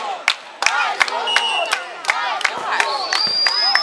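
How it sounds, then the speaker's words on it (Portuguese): Porto football supporters cheer and chant in a stadium during a match against Belenenses: a dense, loud, continuous crowd roar with sharp shouted peaks and whistle-like tones rising above it. "A torcida do Porto vai incentivando."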